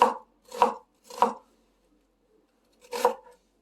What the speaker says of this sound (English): So I'm just chopping it very coarsely.